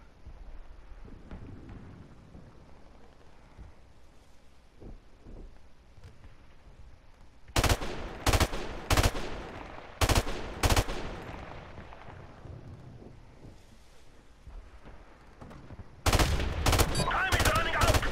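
M16 rifle fire in a video game: after a quiet stretch of low background noise, sharp separate gunshots crack out in spaced groups, loud and close, then a final cluster of rapid shots near the end.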